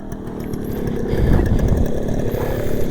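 Motorcycle engine held in a wheelie, a steady loud rough drone that swells in the middle and stays close, with no talking.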